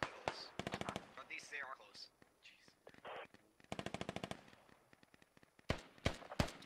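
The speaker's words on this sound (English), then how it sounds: "I hear a whole lot of other gunfire going on." Rapid bursts of automatic gunfire crackle in short volleys in a video game, with quieter voices murmuring between them.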